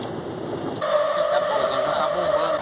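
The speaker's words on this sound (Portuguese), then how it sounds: "Pegamos o metrô aqui na Barra Funda agora" Steady hum and rumble of a São Paulo metro train, boarded at Barra Funda heading for Brás, with a constant tonal whine rising partway through as the ride continues under faint voices.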